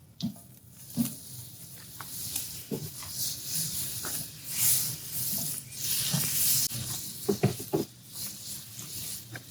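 Butter sizzles on a hot cast iron grate of a KamadoMax grill, a steady bright hiss dotted with soft crackles and pops, fairly close, no voices.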